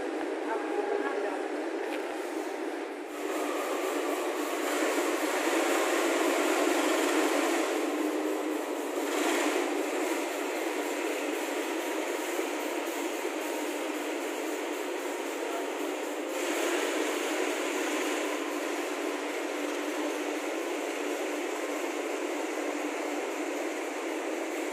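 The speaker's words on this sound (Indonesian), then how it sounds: "ini langsiran rangkaian kereta api Jayakarta. Nah, itu langsirnya itu pakai CC 201" At Surabaya Pasar Turi station, a CC 201 locomotive shunts the Jayakarta train set: a steady, muffled mechanical rumble with broad rail noise carries throughout, heard fairly faintly at a distance, with a few brief louder surges.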